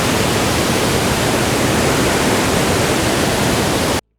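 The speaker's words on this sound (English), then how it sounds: "And look at how the water is raging." Elephant Falls waterfall in Dalat, Vietnam, raging in monsoon flow, a loud, constant roaring rush of water with no break until it cuts off abruptly.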